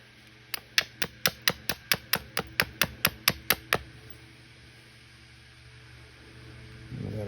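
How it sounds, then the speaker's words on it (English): A stone hammer strikes Texas chert in a quick run of about thirteen sharp, close clicks at an even rhythm, then fades to quiet handling noise, with no speech. "We got a big flake there."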